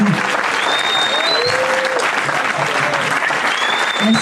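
Steady, dense applause from a concert crowd honouring a swing band's singer, with faint whistles or cheers rising above the clapping throughout.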